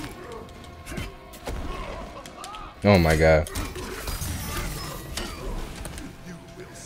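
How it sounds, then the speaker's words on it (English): A sharp metallic hit effect from the Mortal Kombat 11 fighting game cracks out loud and brief with clanking ring, over game noise, while a man exclaims in reaction. "That metal sound effect is so clean."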